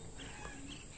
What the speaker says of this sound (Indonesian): ini suara pikatnya.